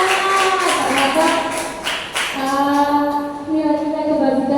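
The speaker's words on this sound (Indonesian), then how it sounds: "tepuk tangan buat Bapak Ibu sekalian" Clapping from an audience of teachers at an indoor school session, a dense patter of hands in the first half, then giving way to a voice talking over fading claps.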